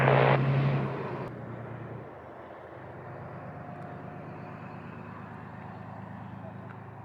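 Airplane taking off at Montego Bay airport in Jamaica: a loud engine roar at first that fades into a steady, more distant rumble, with radio talk over it at the start.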